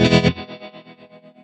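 Electric guitar through a machine-learning amp sim plugin with tremolo and spring reverb: a loud strummed chord cuts off and its tail pulses rhythmically, fading through about eight even tremolo throbs.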